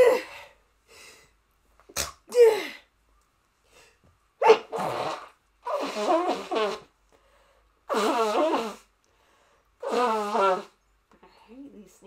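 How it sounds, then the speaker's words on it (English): A character in Zelda: Echoes of Wisdom goes through a sneezing fit, several sharp sneezes followed by voiced, wailing game vocal sounds separated by silences. "I hate these sneezing fits."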